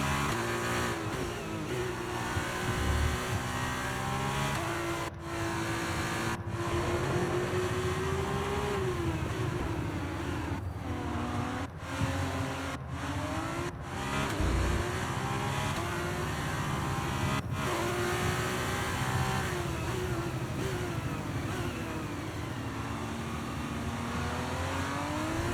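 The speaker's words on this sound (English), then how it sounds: "the F2 cars, I think, sound much better in this game" F2 race car engines in the F1 23 racing game roar continuously at high revs, pitch rising and falling through gear changes with brief cuts on shifts, loud and steady with no talking.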